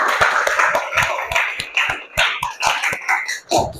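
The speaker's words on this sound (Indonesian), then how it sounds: "beri aplaus untuk kelompok 4" Classroom applause for a student group, a quick run of sharp claps from several people, close and fairly loud, fading toward the end.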